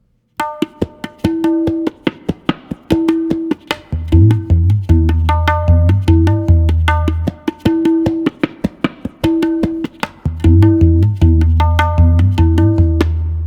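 Tabla drumming in a steady repeating pattern, sharp ringing strokes with deep booming bass hits joining partway through, played alone and close.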